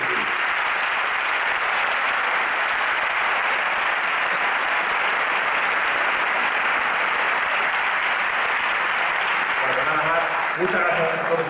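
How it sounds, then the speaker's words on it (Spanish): Loud, continuous applause from an audience at a flamenco contest concert in Leganés, dense and unbroken throughout, with a faint voice emerging under it near the end. "pedir un fuerte aplauso para ellos, sobre todo para Juanjo"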